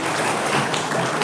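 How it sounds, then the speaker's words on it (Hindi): Audience applause welcoming Shri Parasnath Mahto to the stage at a Mission IAS event in Ranchi, Jharkhand: dense, steady clapping from a crowd that sounds like patter, continuous and fairly loud throughout the short stretch. "जोरदार तालियों से स्वागत करें"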